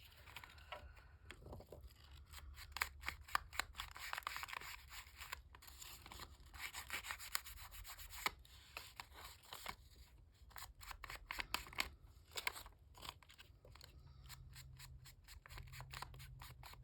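Paper being folded for a seed packet: a quiet run of rapid crisp creasing, rubbing and scratching strokes that continues for many seconds, close up with no voices.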